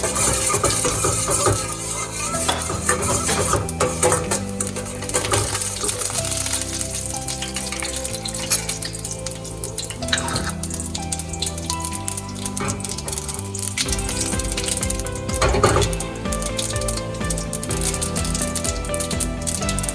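Urad dal, cumin and mustard seeds sizzle and crackle in hot oil, a dense steady spatter with scattered pops throughout, close and fairly loud.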